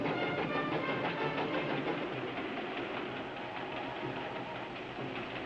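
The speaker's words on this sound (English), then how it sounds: "Both trains got safely through Coyote Canyon." Trains rumble through a canyon in an old Western television episode, a continuous rattling, clattering roar with rhythmic wheel clacks, fairly loud and steady throughout.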